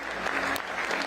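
An audience applauds as Winston Peters takes the stage at an NZ First rally, a short burst of dense, fairly soft clapping.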